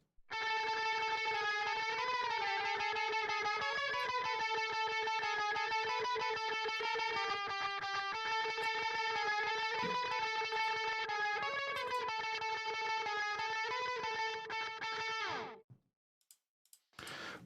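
A pop punk mix runs through a tape delay effect, giving a loud sustained harmonic drone with repeating, wavering pitch steps that cuts off abruptly, followed by a few faint clicks.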